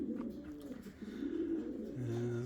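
Uzbek white-eyed pigeons coo in low, continuous throaty tones nearby, their overlapping calls rolling on quietly without talk.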